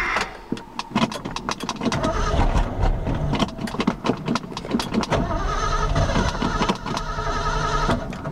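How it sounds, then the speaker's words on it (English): A truck engine cranks without catching, a fast, loud, repetitive churning of the starter motor that runs almost continuously, close by, with no talking. "Well, the truck won't start."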